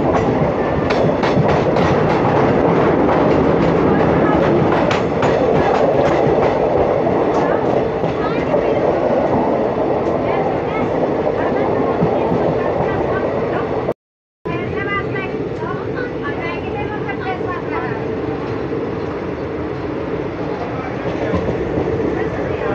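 Kaveri Express passenger train running on rails out of Chennai, a loud continuous rumble with rhythmic clickety-clack of wheels over rail joints, briefly cut by a moment of silence before the steady rolling resumes.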